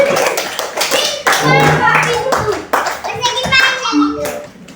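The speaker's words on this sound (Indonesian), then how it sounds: "Kasih tepuk tangannya" A class of children claps together in a classroom during a lesson, the clapping loud and uneven, mixed with overlapping young voices.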